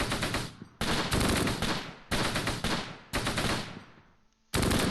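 Machine gun fire in the World War II strategy game Close Combat, set near Caen in June 1944: several loud, dense bursts of rapid automatic shots separated by short pauses, close and alone.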